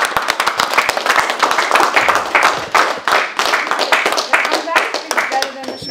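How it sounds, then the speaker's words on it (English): A crowd applauds a boxer after a 12-round championship fight, with dense, steady clapping throughout and some voices mixed in. "Round of applause for our champion."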